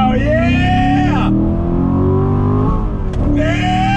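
A Chevrolet Corvette C7 Grand Sport with a 7-speed manual accelerating hard in second gear, a loud close engine roar rising in pitch, with a brief dip mid-pull before climbing again.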